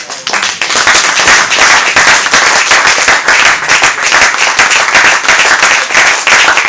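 A church congregation applauds in a dense, steady burst of many hands clapping, loud and close, running unbroken for several seconds with no talk on top.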